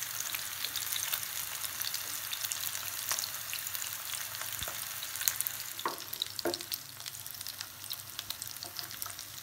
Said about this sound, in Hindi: पीसेस मैंने डाल दिया, इसको फ्राई होने देंगे स्लो फ्लेम पे।